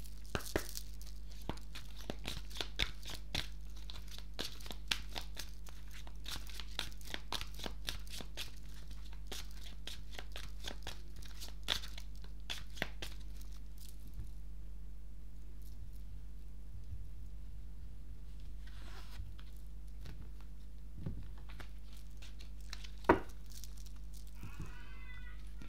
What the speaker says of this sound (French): je vais vous tirer 2 cartes de l'oracle du chakra du cœur pour avoir les énergies générales